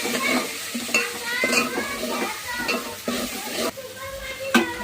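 A spice paste of ginger, green chilli, coriander, garlic, onion, coconut and dried raw mango is stirred and scraped in a hot pan, a close repeated rhythm of spoon strokes over a soft sizzle.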